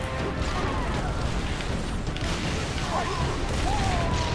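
Rocket fire and explosions in Halo 3 ODST, a dense, loud barrage of blasts and booming impacts that rumbles without a break, with a voice talking over it.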